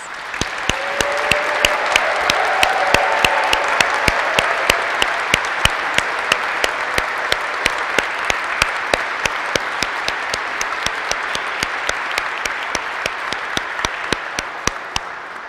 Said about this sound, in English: Let's give the graduates a hearty round of applause.